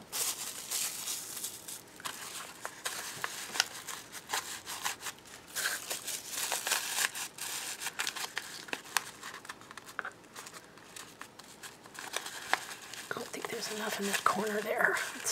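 Plastic bag crinkling and rustling as it is stuffed into a handmade puffy paper heart, a continuous close, fairly quiet scratchy crackle with uneven bursts throughout.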